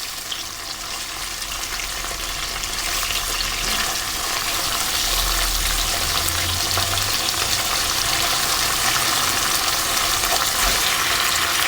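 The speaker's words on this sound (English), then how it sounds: "I'm going to turn it over and fry it on the other side for about 30 seconds" Beef sizzling in a hot pan for stroganoff after being turned to fry the other side, a continuous loud crackling hiss with a low rumble underneath, steady throughout and free of speech.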